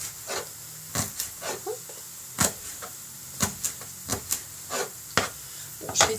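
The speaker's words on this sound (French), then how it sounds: "Je vais touiller un petit peu pour pas que ça colle et que ça brûle" Vegetable bouillon stirred in a cooking pot, a series of short scraping knocks and rubs in an uneven rhythm, close and fairly quiet.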